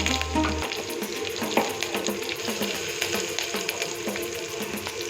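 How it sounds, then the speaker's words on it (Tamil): Ground pepper, cumin and garlic paste sautéing in oil for tomato rasam, a bright continuous sizzle with faint clinks and stirring scrapes throughout. "மஞ்சள் எல்லாமே எண்ணெயிலே வந்து வதக்கிக்கணும்"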